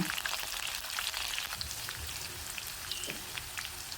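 Mustard seeds, cumin and green chillies frying in hot oil for kande pohe make a dense, continuous crackling sizzle with rapid pops, steady and fairly close, and no one speaks.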